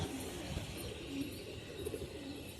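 Pigeons coo softly in low, rolling murmurs, several birds overlapping against a steady background hum.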